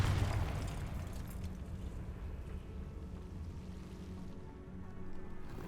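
A Confringo fire-blast spell explodes in Hogwarts Legacy, a deep rumbling boom at the start that fades into a quiet, roaring low tail.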